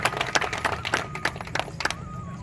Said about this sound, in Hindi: एक बार मेरी तरफ से ताली।